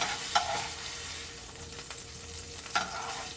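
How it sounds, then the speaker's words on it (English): Steak-umm sliced meat lifted out of a frying pan, a continuous close sizzle of hot grease with a few scraping knocks of a utensil against the pan, no voices. "I am going to get the steakums meat out of the pot or the pan"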